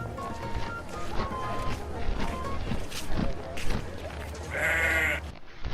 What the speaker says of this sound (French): C'est Gordius le terrible sur un de ses moutons volants!